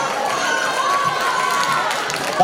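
Audience at a secondary school talent show applauding and cheering for a performing couple, a dense, steady roar of claps and shouts throughout the short stretch.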